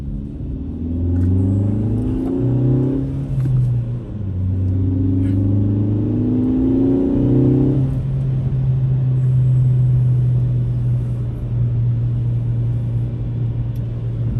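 A manual-transmission Kia Forte GT is driven on the road. A steady engine drone climbs in pitch under acceleration, drops at two gear changes, then settles into an even cruising hum with rumbling road noise throughout.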